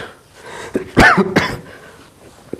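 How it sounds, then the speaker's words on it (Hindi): A single hard cough bursts out, followed by a second rougher cough, close and loud, with quiet room tone around them. "खांसी हो रहा है"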